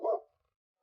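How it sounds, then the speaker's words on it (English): A single short dog bark, close and fairly loud, followed by silence. "Dog lives on a farm, barks, likes to eat meat."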